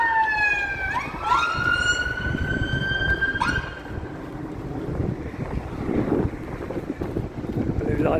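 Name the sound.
ambulance siren on a street in Croydon, London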